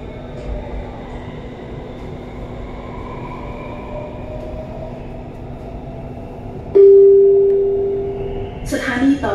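Inside a Bangkok MRT metro train crossing the Chao Phraya river, a steady rolling rumble and hum continue throughout, then a loud sustained chime tone sounds near the end.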